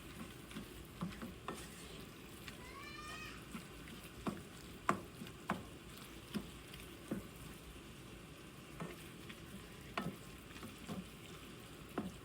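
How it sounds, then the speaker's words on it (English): Seasoned ground beef frying in a pan while being stirred for stuffed bell peppers: a steady sizzle with scattered scraping and clacking strokes of a utensil, moderately close, no voices. "Now we're going to stir this all in."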